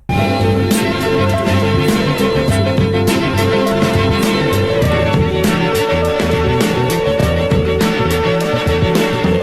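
A looping music sample cut into short repeated bar-length chunks, dense and loud, with steady beats and layered bass and melody throughout.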